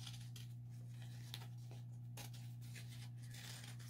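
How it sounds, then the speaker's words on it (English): Sharp fabric scissors snip through paper and fabric for appliqué, giving several quiet, crisp cuts at irregular intervals over a faint steady hum, close by and with no speech. "you're cutting on paper, but you're cutting through your fabric, so you need some good, sharp fabric scissors"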